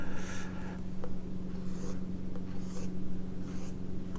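Marker or chalk writing a simple table on a board, several short scratchy strokes in bursts with pauses between, fairly faint over a steady low hum.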